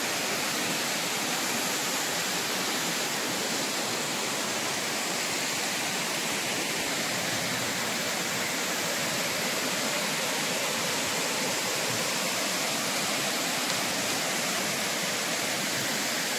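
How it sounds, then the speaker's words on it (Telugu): The PedaByulu waterfall, a hidden village waterfall, pours in a steady, dense roar of rushing water that holds an even level throughout, with no voices over it. "చాలా అద్భుతంగా కనిపిస్తుంది వాటర్ ఫాల్."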